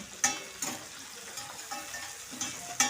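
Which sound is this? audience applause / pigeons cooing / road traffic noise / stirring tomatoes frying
stirring tomatoes frying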